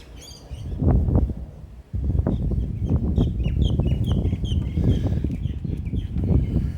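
Two pet ducks, Fig and Bean, quacking and calling close by in a garden, with repeated bursts of noisy fowl calls and flutter over several seconds.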